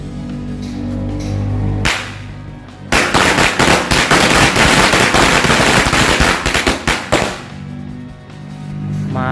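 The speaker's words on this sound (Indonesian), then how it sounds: "kita sumet 2 gepok mercon korek sekaligus" Two packs of Indonesian matchstick firecrackers (mercon korek) set off together go off in a loud, dense, rapid barrage of sharp cracks, close by and running for several seconds before dying down to scattered pops.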